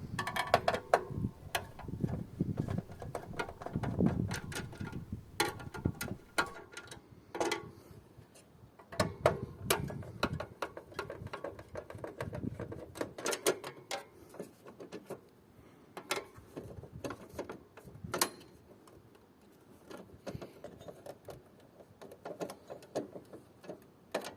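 Screws being worked loose from a retro gaming PC case, heard up close as a run of small metallic ticks, clicks and scrapes of a screwdriver against metal, irregular and fairly quiet, with no talking.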